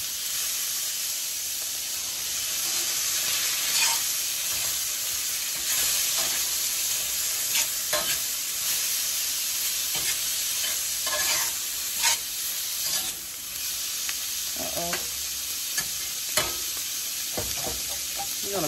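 Breakfast food sizzles steadily in a pan, cooking in its own juices, with a constant close hiss broken by scattered pops, crackles and a few scraping stirs; no talking.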